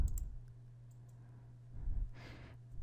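Computer mouse clicks while styling headings in a Microsoft Word document: a couple of sharp, close clicks at the start and a fainter one later, over a low steady hum with a soft breathy rush near the end.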